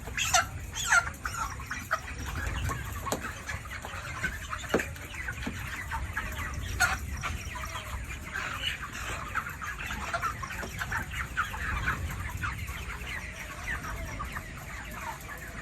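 Broiler chickens on a farm cluck and squawk steadily while a batch of five birds is weighed, with scattered sharp calls over a constant, moderately loud background of flock noise and rustling.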